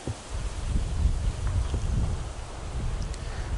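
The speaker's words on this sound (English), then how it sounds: "Then it's raining, and then you get days like this when it's windy as fuck." Strong wind gusts outdoors buffet the microphone on a windy day, a steady low rumble with rustling that holds for the whole few seconds, loud and close with no voices.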